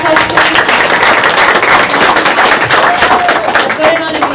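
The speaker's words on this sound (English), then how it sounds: "Can everyone give her a big round of applause, please?" People at a housing forum clap loudly and steadily for the venue's host, a close, dense round of applause with a few voices murmuring underneath.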